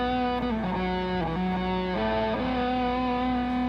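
An electric guitar played through a Vick Audio 73 Ram's Head fuzz pedal rings out sustained notes with thick, clear distortion, sliding between pitches in a slow melodic line, close and steady in volume.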